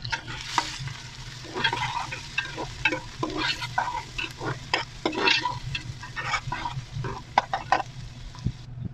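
Browning onions with black lemon sizzle steadily in a pan while a utensil stirs and scrapes in frequent irregular strokes, close and clear, for a chana pulao with no voices.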